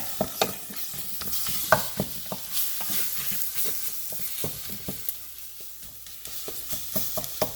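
Egg masala ingredients sauté in a pan with a soft continuous sizzle, punctuated by regular sharp scrapes and taps of a spoon stirring close by, without any voices.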